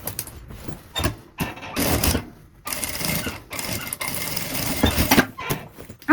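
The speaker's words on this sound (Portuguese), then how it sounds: "vou passar uma costura reta" Sewing machine stitching a straight seam on a fabric box-shaped toiletry bag, a soft rapid mechanical whir in short bursts with pauses, fairly close and quiet.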